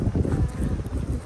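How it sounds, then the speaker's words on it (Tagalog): Gusty wind in Switzerland buffeting the microphone in low, uneven rushes, with no voices. "Very, very windy."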